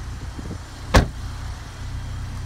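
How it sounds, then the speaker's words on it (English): A car's rear passenger door is opened in one sharp click-and-thunk near the middle, close by, over a steady low hum from a used certified vehicle. "Open the back door here for you real quick."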